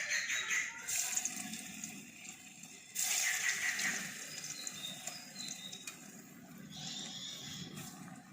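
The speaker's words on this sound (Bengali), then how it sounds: "এই বাকি কোপ্তাগুলো আমি একই রকমভাবে ভেজে নেব।" Jackfruit koftas frying in hot oil, a continuous moderate sizzle with small surges and crackles from the pan, steady throughout with no speech.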